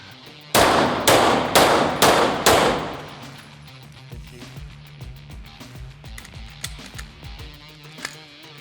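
Five loud, evenly spaced pistol shots from a Glock 45 at a moving target on a shooting range, fired in quick succession, followed by quieter clanks and faint range noise.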